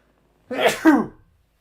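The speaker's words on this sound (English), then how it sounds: "I'm going to sneeze." A single sharp sneeze, a quick two-part burst of breath and voice that ends abruptly.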